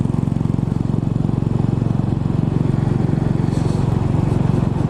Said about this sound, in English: Out on my Royal Enfield this morning.